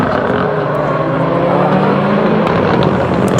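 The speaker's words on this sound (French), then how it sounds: "pour les plus grosses montures de la catégorie reine des supercars" Rallycross supercars race on the track at Lohéac, with a loud, continuous engine roar close by that holds steady throughout.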